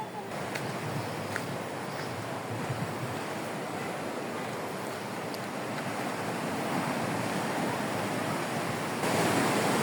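Pacific Ocean surf washes steadily as a dense, broadband roar with wind buffeting the microphone, continuous and fairly loud throughout, building slightly toward the end.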